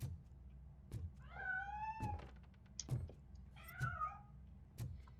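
In the video game RoboCop: Rogue City, a cat gives two clear, drawn-out meows a couple of seconds apart. Soft thumps and footstep-like knocks sound around them in a quiet room, with no talking.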